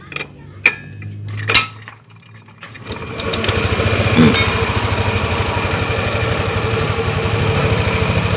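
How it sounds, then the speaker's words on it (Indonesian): A Lexi motorcycle with a battery that often runs flat, its engine started and settling into a steady idle, a rapid even putter after a few clicks and clunks, close and fairly loud, with no talking. "Motor kita hidupkan"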